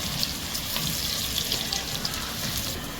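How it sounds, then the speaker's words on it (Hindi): Onions fry in a pan for vegetable pulao, a dense, even crackling hiss with scattered pops throughout. "बिल्कुल लाइट सा गोल्डन तक हम इसे फ्राई करते हैं।"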